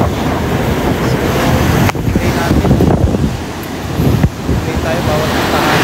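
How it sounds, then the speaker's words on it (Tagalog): Strong, roaring typhoon wind buffets the microphone in loud continuous gusts in Baras, Catanduanes, Philippines, with rushing noise and brief dips between blasts. "Dinayo talaga, lakas ng hangin."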